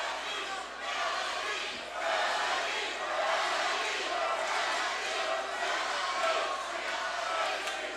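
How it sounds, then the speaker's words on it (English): An arena crowd at a women's fight, a broad, sustained roar of cheering and shouting that swells and holds steady at a distance, with voices blended in. "No, the crowd is loving this fight."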